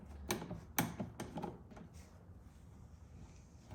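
A ratchet wrench with a 13 mm socket loosens a battery terminal nut: a few quick, close ratcheting clicks in short bursts, then fading to quiet mechanical shuffling.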